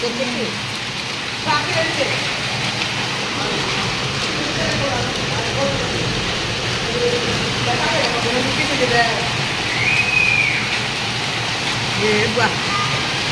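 Rain pours down outdoors in a continuous broad wash of drops. Faint voices and scattered background noises sit under the steady downpour.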